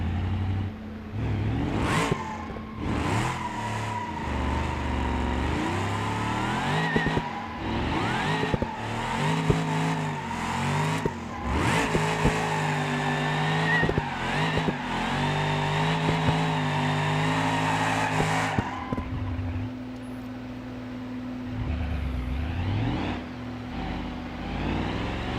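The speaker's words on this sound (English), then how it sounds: "But it can do a 4th gear burnout." General Hawk, a Roadkill project car in BeamNG.drive, doing a 4th gear burnout: a loud, sustained engine roar with rising and falling revs and tire squeal, running continuously before easing back toward idle, no talking.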